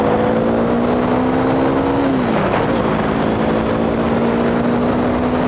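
KTM Duke 390 single-cylinder motorcycle on a demo ride at a vintage racing track, engine held loud and close at high revs with a brief dip in pitch, plus strong wind rush throughout.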